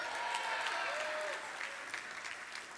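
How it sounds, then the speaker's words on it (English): An awards-show audience at the 2018 Golden Joystick Awards claps loudly in dense, sustained applause that gradually thins out toward the end. "Round of applause for yet another version of Skyrim."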